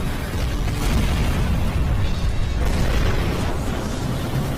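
A missile explodes in a cartoon battle, a loud, continuous rumbling blast that stays dense and steady the whole time without letting up.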